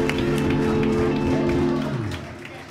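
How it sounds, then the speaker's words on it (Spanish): Applause and cheering from the audience at a live comedy-style show with drinks, steady clapping mixed with crowd noise and voices that fades out toward the end. "Un aplauso para todos los que vinieron aquí a tomarse"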